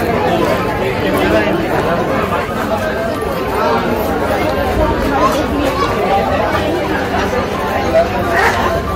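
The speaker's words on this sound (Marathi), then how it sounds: "खूपच गर्दी इथं आज." A busy crowd at Trimbakeshwar Temple in Nashik fills the air with a loud, continuous babble of many overlapping voices, close and unbroken.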